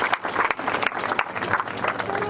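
An audience at a Panna Pramukh Sammelan summit in Beri applauds to welcome Dr. Arvind Sharma, a brief burst of dense, loud clapping from a crowd, close and continuous.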